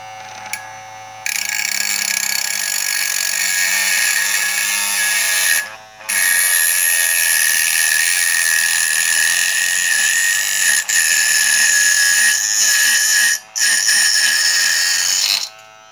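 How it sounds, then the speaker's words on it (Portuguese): Homemade micro grinder driven by a large printer motor cutting the head off a steel nail, a loud steady high-pitched whine that cuts out briefly several times and then resumes. "Vamos cortar a cabeça desse prego"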